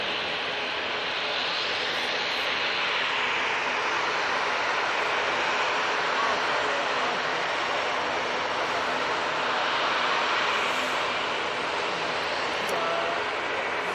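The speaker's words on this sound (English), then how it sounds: "So next out, we've got Watermelon Airlines going back to Lisbon." Watermelon Airlines Airbus A320-200 departing Manchester Airport for Lisbon, a steady broadband jet roar of moderate loudness holding evenly throughout, somewhat distant.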